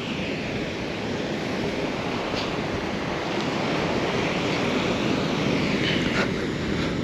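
Surf rolling onto a wide sandy beach in Lao, a continuous broad wash of waves with wind noise on the microphone, steady and fairly loud throughout.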